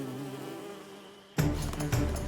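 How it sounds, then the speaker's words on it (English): A steady insect buzzing hums, then abruptly becomes louder and busier with swelling drones, like bees swarming nearby, in a cartoon. "Flash bees!"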